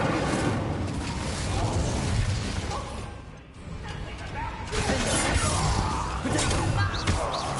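Incendio fire spell cast during combat in the video game Hogwarts Legacy, a dense rushing burst of crackling flame and impacts amid battle noise, with a short dip midway before the roar swells again.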